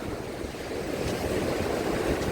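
A rough Black Sea surf on the Odesa shore on a December day gives a continuous broad wash of waves breaking nearby, steady and moderately loud throughout.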